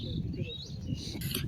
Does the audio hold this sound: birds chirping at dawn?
yes